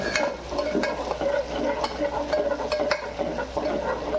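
Onions fry in a pan until reddish for a Koli-style goat head curry, a constant close sizzle with a steady run of stirring scrapes and light utensil taps.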